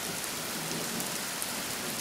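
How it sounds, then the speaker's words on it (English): Steady heavy rain pours down on a surface in a thunderstorm, a continuous dense hiss with a low rumble of thunder underneath, close and even throughout with no voices. "Thunder."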